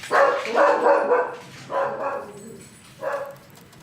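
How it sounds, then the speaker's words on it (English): A dog barks in a game world, three bursts of loud, close barking with short pauses between them, and no talking alongside. "I don't think he knows what he's barking at."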